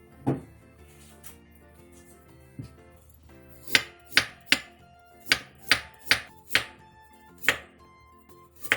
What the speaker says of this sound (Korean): 홈을 판 당근 1개를 얇게 통 썰어주세요.